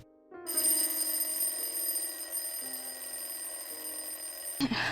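Alarm clock ringing with a loud, continuous electronic bell tone that starts abruptly, holds steady for several seconds, then cuts off sharply at the end.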